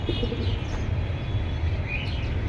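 Pigeons in a collection kept for sale, soft low cooing and faint chirps nearby against a busy background murmur, with no clear speech.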